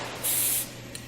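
An airbrush sprays paint speckles onto a wood-texture piece, giving a short, loud, airy hiss lasting under half a second before dropping back to a quieter background hiss, with a faint second spurt just after.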